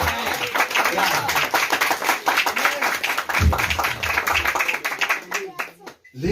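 A church congregation at a Wednesday prayer service claps in praise, dense, steady applause filling the room with a few voices and cheers mixed in before it thins out near the end.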